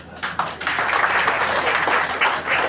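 An audience claps together throughout, a dense and fairly steady round of applause from a gathered crowd.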